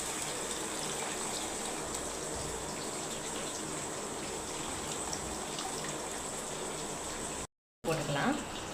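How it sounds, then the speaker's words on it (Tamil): Dissolved tamarind water pours steadily into a rock fish curry in a home kitchen, a continuous splashing gush that briefly cuts out and then resumes. "இப்போ புளி கரைச்சி வச்சுருக்கா ஊற்றிக்கலாம்."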